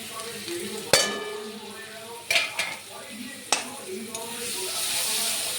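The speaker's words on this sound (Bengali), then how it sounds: "এখন আমি সব মশলাটা কষিয়ে নেব" Fried onion with tomato and ground turmeric, chilli, cumin and coriander sautés in a pan, a soft sizzle broken by a few sharp spatula clanks against the metal, close by.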